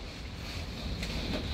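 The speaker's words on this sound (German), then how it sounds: "Wie ihr seht, es ist stürmisch. Es ist nicht nur ein bisschen Wind." Stormy wind gusts over the Baltic Sea coast during a storm surge, a steady heavy roar buffeting the microphone with low rumbling, constant and close with no talk.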